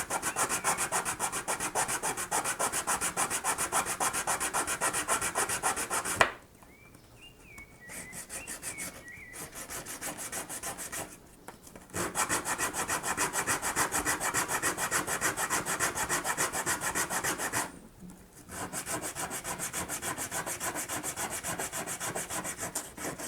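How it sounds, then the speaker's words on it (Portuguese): Wood is sanded by hand while crafting wooden tweezers, with long stretches of steady, fast back-and-forth rasping close up, broken by a few brief pauses where faint birdsong comes through. "E aí eu posso fazer o lixamento."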